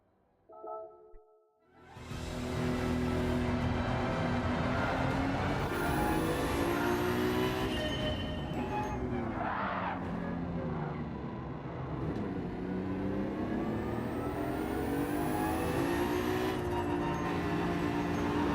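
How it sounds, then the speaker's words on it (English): A race car without ABS in Gran Turismo 7, its straight-cut gearbox whining over a loud, sustained engine drone that swells and shifts in pitch after a short quiet opening. "you can hear the straight cut gears."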